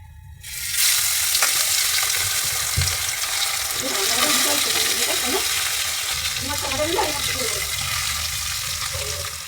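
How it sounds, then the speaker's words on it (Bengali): Fish hits hot oil in a pan and breaks into a loud, steady sizzle that carries on close up, with crackling spatters and a few soft stirring knocks. "এইবার এই মাছটা ভাজবো"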